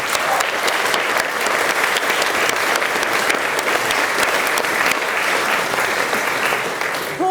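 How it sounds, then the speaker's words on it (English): An audience at a gathering in a memorial creative centre claps in sustained, dense, even applause for several seconds, loud and close throughout. "We ought to give a clap to Paul."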